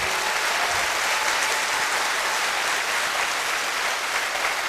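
Sustained applause from a network marketing talk audience fills the whole stretch, many hands clapping at once in a thick, constant roar.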